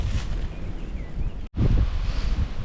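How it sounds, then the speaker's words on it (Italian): Steady wind buffeting a microphone over a continuous rushing of river water near the Mularza Noa waterfall in Sardinia, with one brief dropout in the middle. "Oltre al vento si sente il rumore dell'acqua, infatti c'è il fiume."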